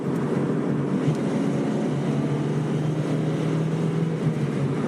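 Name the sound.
inline-four car engine revving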